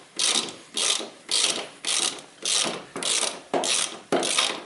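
Ratchet wrench loosening a nut on a car driveshaft during ABS sensor ring cleaning, giving eight steady, evenly spaced bursts of close, crisp pawl clicking with short pauses between strokes.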